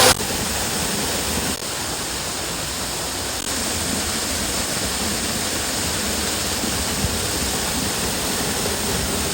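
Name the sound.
waterfall and river water at Talaga River, Alaminos, Laguna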